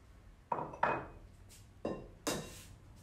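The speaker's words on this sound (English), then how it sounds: "So first you will start by beating your eggs and your sugar" A utensil strikes and scrapes against a container while eggs and sugar are being beaten for biscotti, four separate clattering knocks spaced irregularly, close and fairly loud in an otherwise quiet room.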